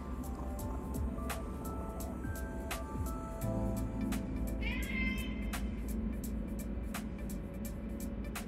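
A cat meows a few times in the video game Astral Chain, over a steady bed of game music and ambience, with a brief rising cry standing out near the middle.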